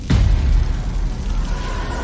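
Explosions from high-frequency bombing in the animated series Swallowed Star: a deep booming blast that swells in over a rumbling low roar, then sustains as a dense, continuous rumble with faint whooshing, loud and close with no voices.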